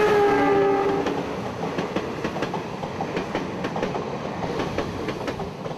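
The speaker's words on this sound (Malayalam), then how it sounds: "Thrissur railway station." A train at Thrissur railway station in Kerala, with a horn blast at the start giving way to steady rhythmic clickety-clack of wheels on rails, loud and close throughout.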